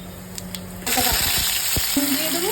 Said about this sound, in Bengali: গরম হয়ে গেছে, এবার জিরে, তেজপাতা, শুকনো লঙ্কা, ফোড়নটা দিয়ে দেবো।